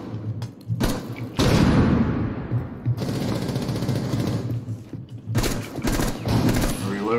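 Gunfire in Rainbow Six Siege, loud bursts of rapid automatic shots broken by pauses and thumps, with players talking over the shooting.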